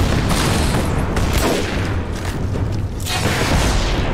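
Bomb blasts in Lara Croft and the Temple of Osiris, a dense run of loud booming explosions with crackling debris, dipping briefly and then surging again near the end.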